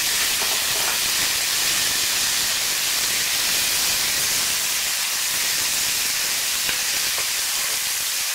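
Onions tipped into hot oil in a pot for a Puerto Rican beef stew (carne guisada), giving a loud, steady broadband sizzle that hisses evenly throughout with no talking.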